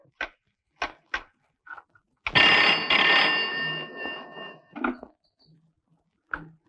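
An old telephone in a Tamil film comedy scene rings with a loud, bright bell burst lasting about two seconds, framed by short knocks and clatters before and after.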